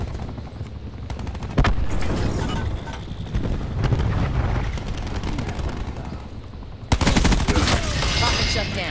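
Dense automatic and rapid gunfire from the Black Ops 4 multiplayer beta in Hardpoint mode, continuous bursts with loud sharp volleys near the start and again near the end, dense and close throughout.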